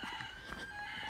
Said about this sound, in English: I have to go and let the chickens out